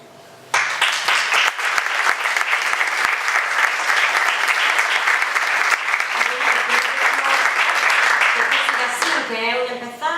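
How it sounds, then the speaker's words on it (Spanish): Audience applause at a historical lecture event in Mengíbar, a sudden burst of dense, sustained clapping from a hall full of people, loud and steady before fading as a voice begins at the end. "me gustaría que le dierais un aplauso."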